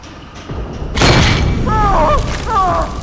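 Wrist and ankle bombs going off in a film scene, a sudden heavy boom with rumbling aftermath, followed by warbling electronic tones, loud and close.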